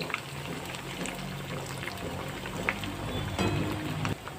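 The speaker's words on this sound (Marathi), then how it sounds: "मंदाचेवर जर वडे तुम्ही फ्राय केले तर अतिशय छान आणि क्रिस्पी होतात वडे" Sabudana vada fry in hot oil on medium heat, a steady close bubbling and crackling hiss that continues without break, growing slightly louder toward the end.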